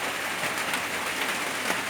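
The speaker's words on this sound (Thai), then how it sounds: "ฝนตกตั้งแต่ตีสี่" Steady rain falling in the early morning in a rural Thai cattle-farming area, a constant close hiss of drops on surfaces with no pauses and no voices.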